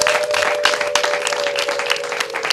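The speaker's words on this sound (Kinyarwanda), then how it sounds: "Amashyi menshi n'impundu." Wedding guests clap loudly and continuously as a close, dense crowd, with a steady sustained tone running beneath the clapping throughout.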